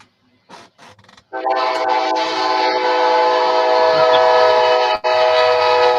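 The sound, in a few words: train rolling and train whistle, played sound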